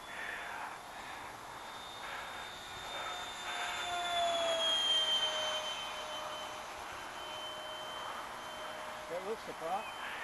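An EDF model English Electric Lightning jet flies during its maiden flight, a thin, whining ducted-fan tone that rises and falls in pitch as it passes at a distance, fairly faint against outdoor ambience.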